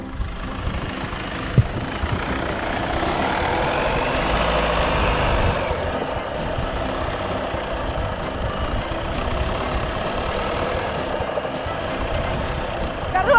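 A 2020 Kia Sorento SUV engine roars steadily while stuck in sand, swelling briefly as it revs hard, with a constant low rumble throughout.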